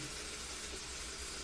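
Tap water running steadily into a bathroom sink, ideally hot, a continuous broadband splashing hiss that stays even and close throughout, with no other sounds.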